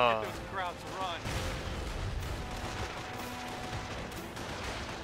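Gunfire and battle noise in the Company of Heroes: Tales of Valor game during the Normandy invasion at Carentan, a dense continuous rumble of shots and explosions with a voice talking over the start.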